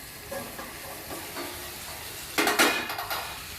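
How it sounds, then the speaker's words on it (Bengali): A spoon works through a potato and eggplant curry in a pan, giving a low background simmer followed by a cluster of louder scraping, clattering stirs near the end. "আমি আরেকবার নাড়িয়ে নেব সবজিগুলা, একটু নাড়িয়ে নেব ভালো মতন"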